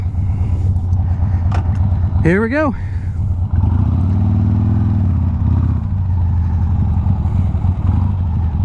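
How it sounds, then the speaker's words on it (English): A Harley-Davidson Sportster 883 motorcycle engine idles loudly up close while warming up, with a brief rev rising and falling midway before settling back into a steady low rumble; a voice speaks briefly over it. "you have to pull the choke and warm up the engine"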